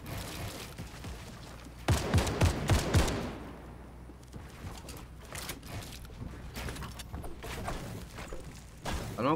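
Gunfire in the video game Fortnite, a cluster of sharp shots around the early middle, then sporadic lighter cracks and clatter at moderate distance.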